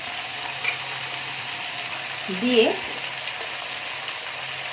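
Soya chowmein vegetables stir-fried in a pan with fried potatoes and soya chunks give a steady sizzle, with a brief scraping stir near the middle and a few spoken words over it.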